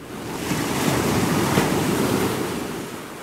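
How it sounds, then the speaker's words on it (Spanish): Ocean surf breaking along a protected Costa Rican marine coastline, a broad steady wash of waves swelling and receding over about three seconds, with wind rushing across the microphone. "Lo que escuchas no es una simple ola"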